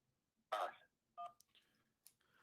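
Phone line tones as a call comes in, a few short, faint beeps and tone bursts separated by quiet gaps.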